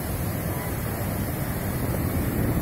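Loud rushing surf and wind noise around a boat in a storm, a heavy wave churning close by with constant roar and buffeting.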